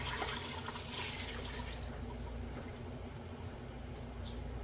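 Steady rushing water pours from a tap, a continuous hiss with no talking, slightly brighter at the start.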